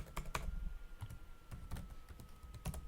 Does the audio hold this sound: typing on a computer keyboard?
yes